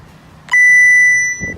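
Remote start on a 2018 Ford F-350 pickup sounds one loud, steady electronic beep lasting about a second, clear and alone with faint background noise.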